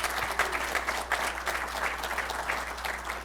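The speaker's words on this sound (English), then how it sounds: "give another round of applause to these folks" A round of applause from a small audience at a wounded airmen resiliency program, moderate clapping with a soft, fairly even rhythm and a low hum underneath.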